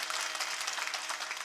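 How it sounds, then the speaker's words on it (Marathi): An audience at a kirtan applauds a women's bhajan group with steady, dense clapping that holds evenly throughout at moderate distance and with no voices on top. "आमच्या सगळ्या महिला गायिकांसाठी एकदा जोरात टाळी वाजवा सगळ्यांना"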